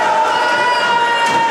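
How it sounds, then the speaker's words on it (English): A loud, dense crowd roars and cheers without a break at a college men's basketball game, a sustained wall of excited voices filling the gym. "You can hear the crowd go wild."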